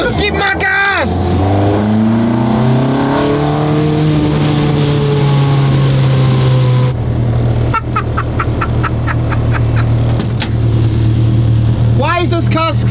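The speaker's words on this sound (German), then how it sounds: "Why is this car screaming at me? It's old and noisy like me." An old car's engine revs and screams loudly, its rising and falling harmonic drone running under continuous speech from people in and around the car.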